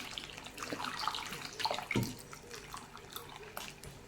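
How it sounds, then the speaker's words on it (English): Tap water runs into a cooking pot for a springbok venison soup, a steady splashing pour close by, with a few brighter drips and splashes partway through. No one speaks. "Okay, top it up with some water."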